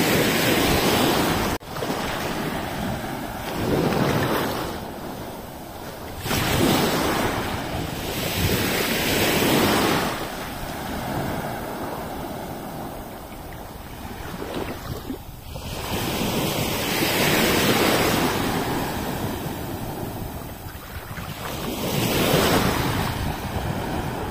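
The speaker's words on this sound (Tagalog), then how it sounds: "Dagat." Waves break and wash onto a beach shore in steady surges, loud and close, with strong wind buffeting the microphone throughout and no talking.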